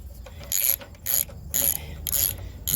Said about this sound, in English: A 10 millimeter, take this bolt off here.